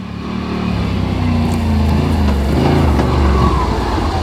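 A Yamaha Rmax1000 or Textron Wildcat Trail side-by-side accelerating in two-wheel drive, a loud, steady engine roar that builds and holds close by throughout, with no voices over it.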